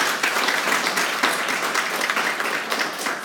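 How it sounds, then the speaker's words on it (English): A crowd at a comedy and film event applauds steadily, a broad wash of many hands clapping at moderate distance, even and sustained without a break. "Give him a round of applause."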